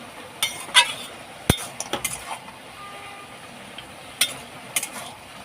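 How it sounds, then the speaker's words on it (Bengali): A spatula clinks and scrapes lightly against a pan while vegetables and ginger paste are stirred together for a Bengali vegetable labra, with a few sharp taps spread over a quiet background. "একটু আদা বাটা ভালো করে নাড়াচাড়া করে মিশিয়ে নেব মশলা সবজির সাথে"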